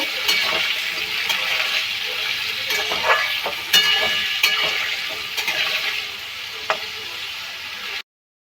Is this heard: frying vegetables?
yes